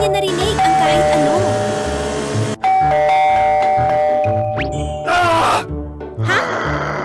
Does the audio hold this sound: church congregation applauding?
no